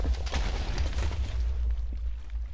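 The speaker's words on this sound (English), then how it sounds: "And don't worry if there's an explosion up there." Minecraft TNT blowing up in a water-protected tree farm, a dense crackling burst of explosive noise with deep rumble, loud and continuous before fading slightly at the end.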